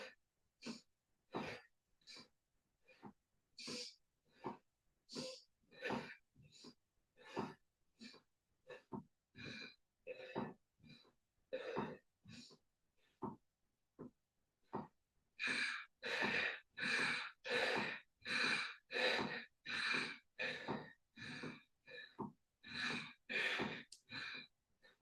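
Forceful nasal breathing during hatha yoga breathwork: a long series of sharp, rhythmic breaths through the nose, steady at first and then faster and louder in a quick pumping run.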